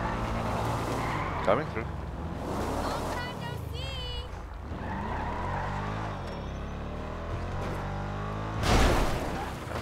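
A car in GTA Online slides sideways, its engine droning and tires scrubbing through a long loud skid, while someone talks over it and a brief louder burst comes near the end.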